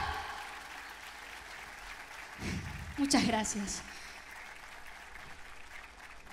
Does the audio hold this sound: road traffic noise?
no